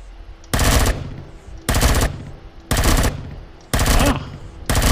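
Gunfire in the video game Empyrion - Galactic Survival, with four loud sustained bursts of automatic fire, each lasting about half a second and separated by short pauses of lower background hum.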